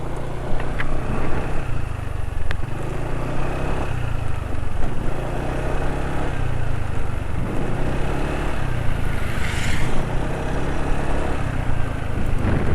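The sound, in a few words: Yamaha motorcycle engine running on Yamalube RS4GP oil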